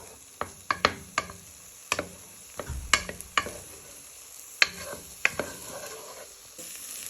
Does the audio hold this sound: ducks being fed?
no